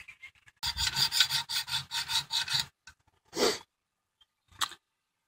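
A Wicked Edge sharpening stone swiped along a knife blade: about seven quick, even rasping strokes in a steady rhythm, close and fairly loud, followed after a pause by two more isolated scrapes.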